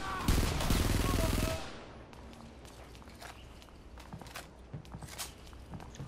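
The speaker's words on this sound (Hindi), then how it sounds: "गोलियां इसमें सही नहीं चलती भाई बिखर बिखर के चल रही है" Gunfire in the PC shooter Frontlines: Fuel of War, a loud burst of rapid automatic fire that stops abruptly, followed by quieter scattered shots and thuds in the distance.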